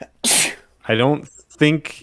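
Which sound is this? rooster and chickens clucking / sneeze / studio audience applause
sneeze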